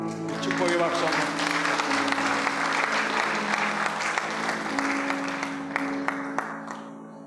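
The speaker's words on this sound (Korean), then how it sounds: "축복의 박수 한번." A church congregation at a Sunday worship service breaks into sustained applause, a dense, steady clapping from many hands that swells and holds, then slowly thins near the end, with murmured voices and a sustained keyboard tone beneath.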